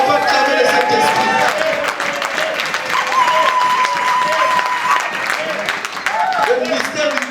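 A church congregation applauds and cheers together in a steady, dense wash of clapping and voices that carries on at full volume throughout, loud and close.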